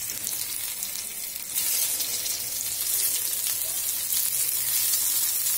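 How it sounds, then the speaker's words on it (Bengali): Eggplant slices frying in mustard oil over medium heat, a steady near sizzle that swells louder after a couple of seconds and keeps hissing evenly. "সমস্ত বেগুনগুলোকে আমি এইভাবে উল্টে পাল্টে ভেজে নেব"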